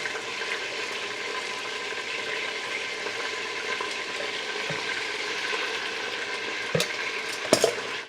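Food fries in a pan with a steady, quiet hiss and crackle, plus a few brief clatters near the end and no talking.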